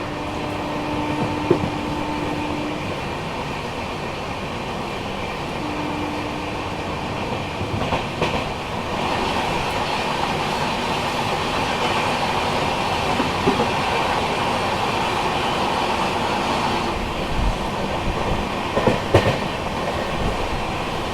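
Passenger train running on a single-line section of Indian railway between Ahmedabad and Chittorgarh, heard from inside: a loud steady rumble of wheels and carriage with occasional clicks and faint squeals, no speech.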